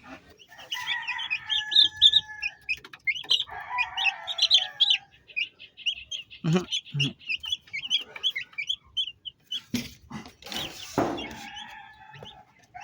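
Broiler chicks chirp in a dense, steady chorus of high, close peeping, joined by a few louder clucks and some handling noises partway through.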